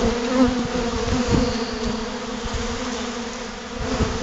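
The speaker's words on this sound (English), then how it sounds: "when you have this many bees, they're sucking out so fast" A dense, steady buzz of many honey bees crowding around open sugar syrup feed, close and continuous, with a swarming hum that never lets up.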